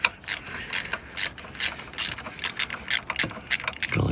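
A homemade hand tool cranks loosened bolts out during a VW Jetta MK6 transmission swap, producing quick, repeated ratchet-like clicks and metallic rattles in a steady uneven rhythm, loud and close with no talking.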